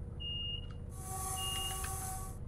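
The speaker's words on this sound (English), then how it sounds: "What is that alarm?" A warning alarm in a Voyager VT221 train cab in Train Simulator gives a few short, thin beeps, then one longer continuous tone, all quiet over a low cab rumble.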